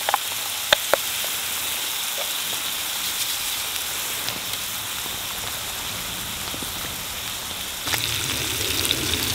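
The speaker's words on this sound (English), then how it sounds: "I've just added the bacon on top of the mushrooms and tomatoes, the sausage and the eggs, just done nicely" Bacon, mushrooms, tomatoes, sausage and eggs fry together on a firebox pan outdoors in Welsh woodland, a steady hissing sizzle with a few sharp pops and crackles, continuous and fairly close, no talking.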